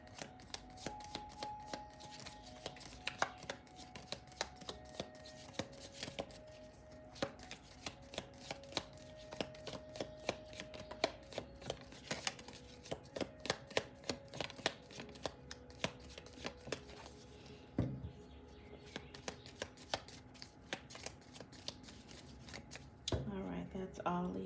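A deck of tea leaf cards is shuffled by hand, with repeated crisp riffling flicks running steadily over soft sustained background music.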